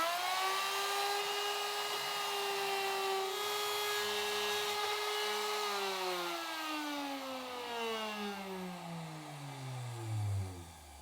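A router cutting a shallow hinge mortise in wood gives a loud, steady high-pitched whine for several seconds, then the motor spins down with the pitch sliding lower until it stops.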